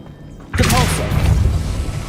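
A Revelio spell cast in Hogwarts Legacy, a sudden booming whoosh that bursts in after a quiet moment and rolls on with a sustained shimmering rumble, with a voice briefly heard.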